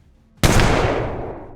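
A single heavy gunshot from a powerful gun in the video game Colony Ship, a sharp loud blast after a quiet lead-in, then a long decaying rumble and echo.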